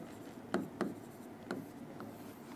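A few short marker or chalk strokes tap and scrape across a board in a quiet classroom, four brief separate marks spaced unevenly, faint and close with soft room hiss.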